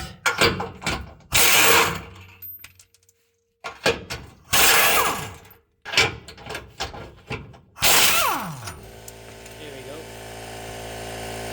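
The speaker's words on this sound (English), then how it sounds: "So for this, then you have to use a ratchet. You cannot get to it with the gun." A ratchet wrench clicks in quick bursts while bolts come off a 2011 Nissan Frontier engine and transmission mount. The clicking is loud and close, with short pauses between bursts, and a mechanical whir and rattle follow near the end.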